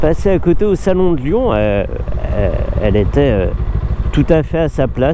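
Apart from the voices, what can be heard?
No everyday noise stands out behind the speech.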